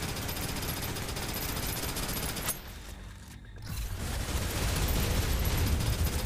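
Sustained automatic gunfire in the shooter game Snowbreak: Containment Zone, a dense loud rattle of rapid shots that drops out briefly midway before resuming at full intensity.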